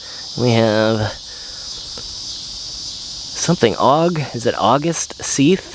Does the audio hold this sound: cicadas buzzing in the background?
yes